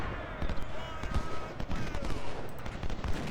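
Massed musket and cannon fire crackles in overlapping volleys during a Civil War battle at Spotsylvania's Laurel Hill in the strategy game Ultimate General: Civil War, a steady, dense fusillade that never pauses.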